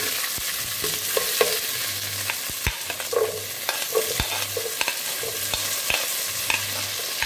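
Small onions and large onions sizzle and crackle in hot oil, close up, with a utensil stirring and scraping the pan in irregular clicks.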